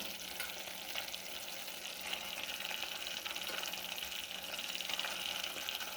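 Fish pieces go into a simmering Kerala-style fish curry masala, which gives a soft continuous bubbling and faint sizzle, quiet and close.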